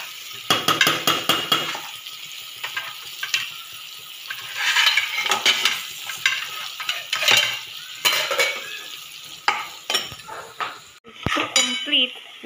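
Potato and eggplant curry gravy stirred in a pan, with a spoon scraping and clanking against the metal over steady sizzling, close and fairly loud, with brief talk.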